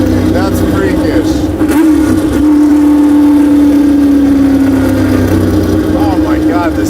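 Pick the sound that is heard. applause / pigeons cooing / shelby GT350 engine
shelby GT350 engine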